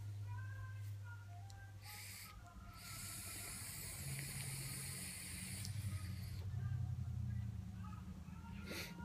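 Air pulls through the open airflow holes of a vape atomizer as a steady breathy hiss, swelling louder in long draws close up, with no talking.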